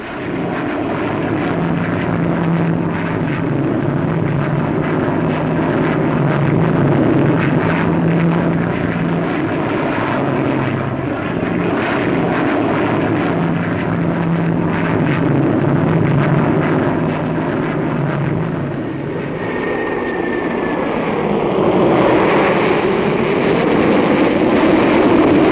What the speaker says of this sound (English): Valiant was the second V-bomber on show.